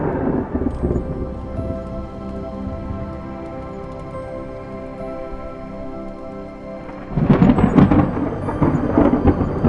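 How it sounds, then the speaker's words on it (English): Monsoon thunder rumbles low and long from distant clouds, fading through the middle before a louder, closer roll with crackling bursts breaks in near the end. "rumbling with thunder"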